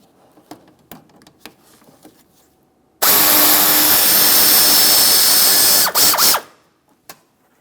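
Power tool with a 7mm socket removing bumper fasteners on a 2017-2024 GMC Acadia: a few light clicks and taps, then a loud continuous whirring burst of about three and a half seconds that stutters briefly before stopping, followed by a final tap.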